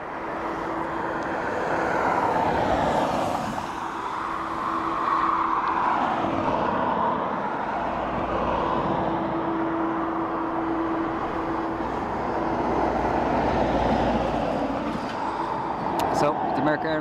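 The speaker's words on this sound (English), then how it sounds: "So the American Airlines there, you see on your screen there, is off to Charlotte, state-bound." American Airlines jet departing Dublin Airport for Charlotte, a sustained broad engine roar rising and falling slowly across the whole stretch, with a voice talking over it.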